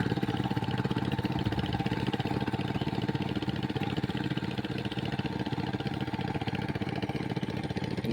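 A seven horsepower power tiller fitted with wheels ploughs a grassy field, its engine chugging steadily and loudly close by for the whole stretch, a constant mid-pitched drone with no talk over it.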